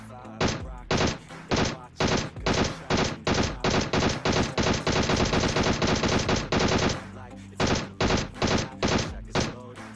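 PUBG Mobile gunfire, including AWM sniper shots, rattles in rapid close bursts with one sustained automatic stretch in the middle, loud and punchy throughout.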